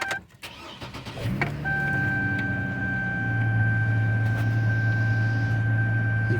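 A 2009 Chevrolet TrailBlazer with about 191,850 miles starts up: a brief cranking burst, then the engine catches and settles into a steady, close idle with a faint high whine above it.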